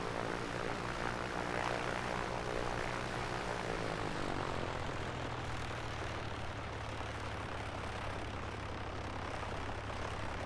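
Propeller engine drone of an A2A Comanche 250 PA24 in MSFS 2024, a continuous buzzing hum with a slowly shifting pitch that settles into a steady, even tone, loud and constant throughout.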